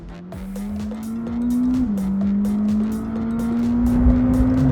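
A McLaren 620R sports car driving, its engine droning steadily and loud from inside, the pitch holding then dipping briefly before climbing again, with no talk.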